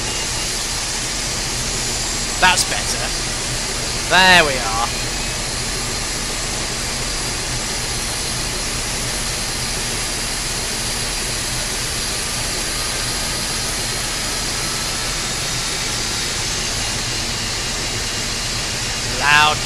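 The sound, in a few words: Boeing 747-200 jet engine starting in X-Plane 12, video game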